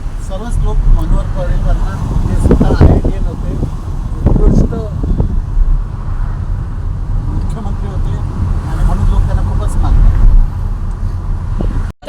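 A car drives along a road in Goa with a steady engine and road rumble plus wind buffeting the microphone, and voices talk over the noise.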